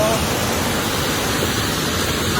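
A waterfall on a river during the monsoon, a steady broadband rush of falling water filling the whole clip, close and loud.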